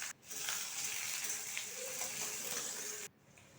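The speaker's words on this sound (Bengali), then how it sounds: "পেঁয়াজটা একটু ভেজে নেব।" Chopped onion frying in hot oil in a kadai with cumin, bay leaf and whole garam masala, a steady soft sizzle lasting about three seconds before cutting off abruptly.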